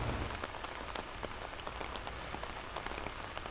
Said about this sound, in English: And the rain is not letting up, and I don't think it's gonna let up today.